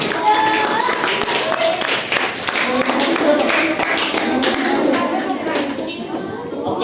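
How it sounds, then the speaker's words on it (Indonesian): Children clap their hands together in a lively, uneven patter that runs steadily throughout, mixed with voices talking over it. "Betul, tepuk tangan, tepuk tangan."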